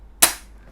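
A single sharp, loud mechanical snap from a Kar 98K Double Bell airsoft rifle's bolt cycling without its cover, with a brief bright ring that fades quickly, standing alone against quiet.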